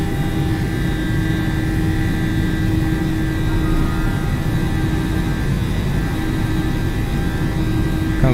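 A simulated Boeing 737-800 rolls down the runway for takeoff, producing a steady, loud engine roar with a constant drone and no voices.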